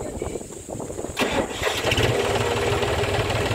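John Deere 5045 D tractor engine cranks and catches about a second in, then settles into a steady, loud diesel run close by, with faint background noise before the start.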